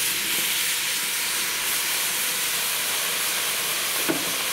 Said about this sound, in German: jetzt werde ich das schon einmal ablöschen mit dieser Weinsud